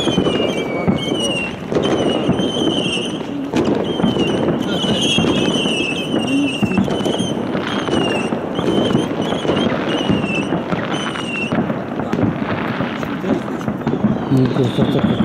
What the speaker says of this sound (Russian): Ну вот городской салют идет.